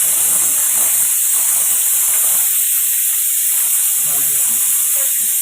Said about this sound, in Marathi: आता ही कुकर बी झाला लिकेज.